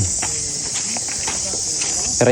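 A steady, high-pitched cicada drone fills the whole clip, continuous and shrill, with faint scattered rustles and a brief sound at the end.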